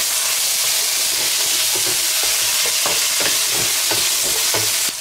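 Chili-infused oil with a spoonful of Pixian doubanjiang and a small block of hotpot base being stir-fried, a loud steady sizzle broken by regular scraping stir strokes of the spatula, close and without voices.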